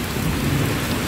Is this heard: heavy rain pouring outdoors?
yes